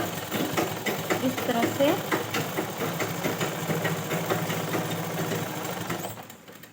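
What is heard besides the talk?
sewing machine running while making a cord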